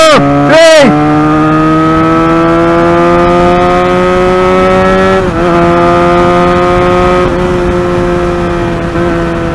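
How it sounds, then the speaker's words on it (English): A Benelli 302R motorcycle at full throttle in a friendly race, its engine a loud, steady high-revving drone with a brief sharp rise near the start and small dips at gear changes, continuous and close throughout. "I'm going full throttle on this motorcycle, on the Benelli."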